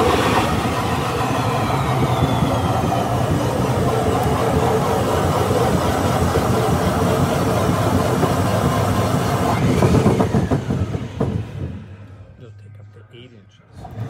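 A large tenon cutter shaves a 3-inch tenon onto a 5.5-inch log, giving a loud, steady, dense grinding roar that runs continuously before winding down near the end.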